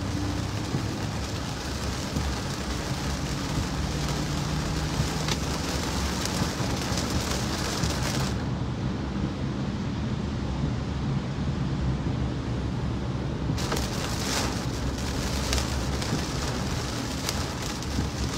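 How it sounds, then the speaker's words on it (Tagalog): Steady rain pours down, a constant dense hiss of drops on surfaces, with a brief slight dip in the middle before resuming. "Ulan man, Goy."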